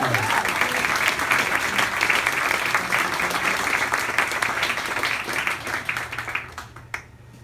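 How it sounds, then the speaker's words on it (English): Audience at a Legion of Honor ceremony breaking into sustained applause, dense clapping from a crowd that carries on for several seconds before tapering off to a few last claps. "So Brigitte, you deserve a big applause."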